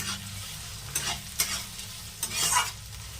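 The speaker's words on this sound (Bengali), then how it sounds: "পেঁয়াজ কুচিগুলো দিয়ে দিয়েছি, আর নেড়ে নেব।" Close-up sizzling of chopped onions frying in oil for chickpea ghugni, with a few distinct scraping stirs of a spatula breaking through the steady hiss.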